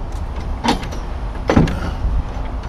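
Truck trailer door with a clamp being worked, two sharp metallic clunks and bangs about a second apart over low background noise, fairly close and loud.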